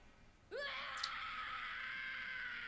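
A man in an anime episode gives a sudden loud scream that rises sharply and then holds as a strained, sustained yell for about two seconds.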